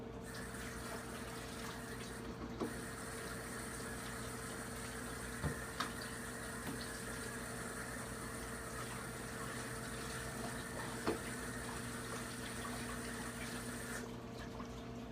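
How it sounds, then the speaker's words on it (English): Hands being washed under a running tap: a steady, continuous rush of water that lasts throughout, with a few faint clinks and knocks. "Wash my hands."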